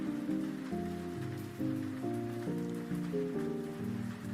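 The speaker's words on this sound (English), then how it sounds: "I hate this rain sound in the background" Steady soft rain patters in the background as a faint, even hiss beneath sustained, shifting musical tones, with no voices present.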